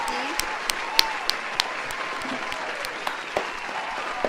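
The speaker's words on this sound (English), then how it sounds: "So everyone give a round of applause to Mr. E." A group gives a fairly quiet round of applause, a soft wash of clapping broken by a few sharp, distinct claps at irregular intervals, with voices murmuring underneath.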